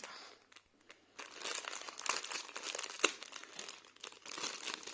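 Crinkly plastic packaging holding foam hair elastics is handled and torn open, giving close bursts of crackling and crumpling with brief pauses between them.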